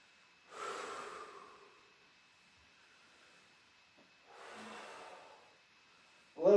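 Slow, audible exhalations through the nose during a morning stretching twist, two soft breathy rushes a few seconds apart, close and fairly quiet in an otherwise still room.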